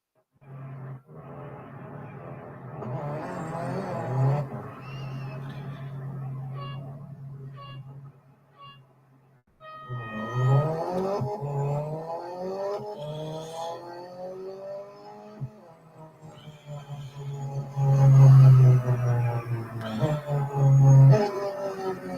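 An Alfa Romeo 4C race car engine in the Real Racing 3 racing game revs hard in rising sweeps, dropping briefly near the middle and then climbing again louder as it accelerates out of a corner.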